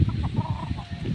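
Fighting roosters and chickens on a small farm cluck and call in a short, busy burst of close, overlapping fowl sounds.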